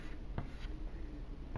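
A pen or chalk scratches briefly on a board while an equation is written during a physics lecture, faint soft strokes over a steady background whine.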